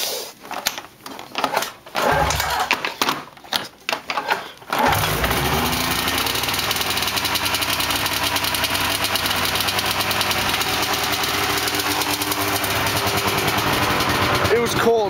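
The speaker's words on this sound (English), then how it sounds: "You can run your snowmobile." A snowmobile engine, started cold and left running, idles steadily and fairly close for the last ten seconds after a stretch of talk and handling noise at the start.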